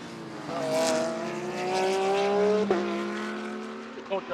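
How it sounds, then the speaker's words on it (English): GT race cars at Kyalami circuit, a V6 Honda and a flat-six Porsche, pass with rising and falling harmonic engine whines, one sweeping by close and loud with brief gear-change blips, others fainter in the distance. "V6 Honda, flat 6 Porsche, both 6-cylinder engines, but both got totally different engine tone, engine notes."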